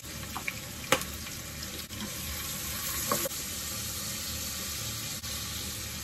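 Onions frying in mustard oil for chicken tehari, a steady close sizzle with a few sharp spatters and clinks of stirring, no talk.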